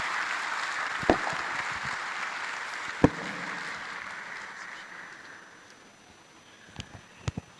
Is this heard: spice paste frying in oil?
no